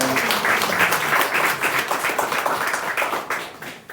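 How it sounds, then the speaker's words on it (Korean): A church congregation applauds during a Sunday morning worship service, with steady, dense clapping that fills the room for about four seconds without a break. "축하의 박수 한번 합니다"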